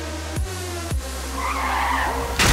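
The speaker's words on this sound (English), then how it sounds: "Experience the full force of a glorious race car pileup" Race car pileup with tires skidding and scraping, sharp impact bursts cutting through a constant engine drone, with a louder crash hit at the end.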